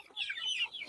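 Chickens being fed in a small backyard coop give a brief, close burst of soft clucking and chirpy calls with no talk over it.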